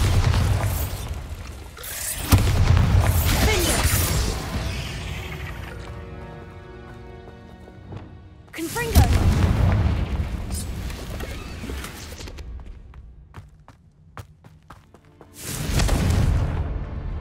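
Bombarda explosion spell cast in Hogwarts Legacy, three loud booming bursts with ringing debris tails between them, spread over several seconds.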